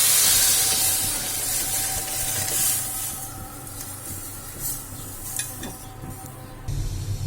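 Lentils poured into hot oil with fried onions for a mango dal give a strong hissing sizzle that slowly fades, with clinks of a spoon stirring and a renewed burst of sizzling near the end; close, no speech.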